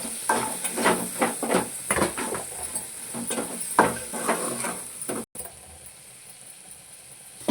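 Dried fish is stirred into gongura in a pan, frying with repeated scraping stir strokes and sizzling, steady and close up, then cutting to a quieter hiss near the end with no speech.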